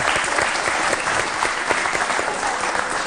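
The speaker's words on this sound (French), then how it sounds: "On Merci de nous l'applaudit quand même" An audience applauds a guest on a Moroccan television show, a dense, steady wash of clapping that stays loud and even throughout.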